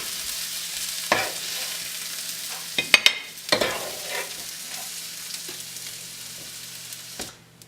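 Mushroom mixture stirred and frying in a pan, a steady soft sizzle broken by a few sharp scraping clicks of the utensil, fairly close and alone with no talk.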